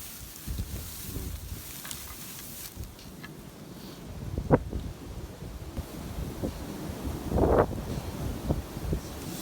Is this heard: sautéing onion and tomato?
no